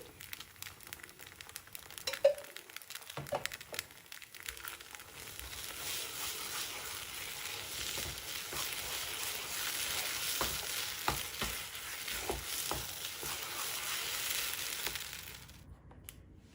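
A spoon stirs poha-and-rava kesari with ghee in a pan, a steady scraping and soft sizzling that runs close and fairly quiet for most of the stretch before stopping abruptly near the end.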